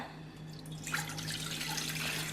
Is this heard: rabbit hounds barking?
no